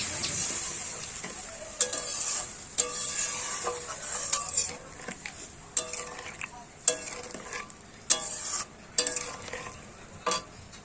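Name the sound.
stirring fish curry in a pan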